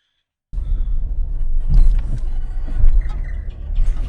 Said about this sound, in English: I've got to drive up on a curb